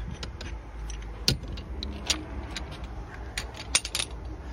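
Lug nuts are spun off a car wheel and handled, giving sharp metallic clinks and jangles at irregular intervals over low rumbling background noise.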